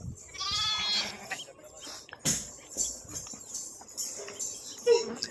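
Sheep bleat in a flock during a flock medication session, with several harmonic cries clustered in the first second, then scattered fainter bleats and rustling, moderately close.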